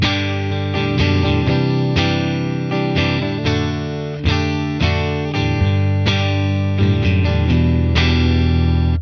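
An electric guitar runs through a Tone King Imperial preamp pedal with the gain pushed up, playing loud, thick, overdriven chords and notes that ring on steadily in a continuous phrase, with no voice.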